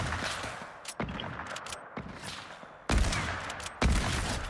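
Fortnite gunfire from two players shooting at once, heard as dense bursts of rapid shots cut by short gaps, with a loud sharp volley near the end.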